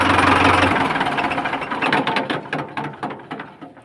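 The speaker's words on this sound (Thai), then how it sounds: "เสียงนี่แน่นดีครับ เสียงแน่นดีครับ เครื่องแรงดีนะฮะ" A Ford 6600 tractor engine runs close by with a rough, knocking diesel clatter that starts loud and gradually fades into uneven pulsing beats.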